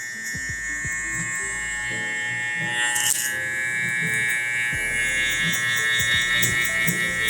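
Electric hair clippers buzz steadily and closely while fading hair in a barber's taper cut, with small changes in tone as the blade works through the hair. Someone talks over the hum.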